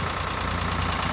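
A tractor engine idles steadily at close range, a continuous low rumble with a slight knocking pulse and no talk.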